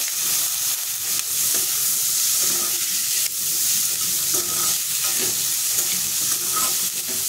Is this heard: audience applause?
no